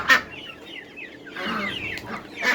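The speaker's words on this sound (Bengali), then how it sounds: "পুরো ঘরেই বিভিন্ন রকমের বিভিন্ন ধরনের মুরগি আছে" Chickens and ducks of many breeds cluck in a poultry house, with a loud near cluck at the start, a busier burst of clucking midway and another sharp cluck at the end, over a low barnyard murmur.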